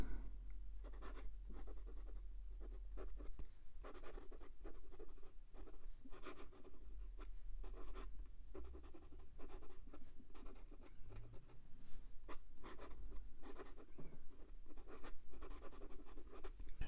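A calligraphy nib scratching out cursive letters on paper, close and quiet, with repeated short strokes and scrapes in an uneven rhythm and brief pauses between words.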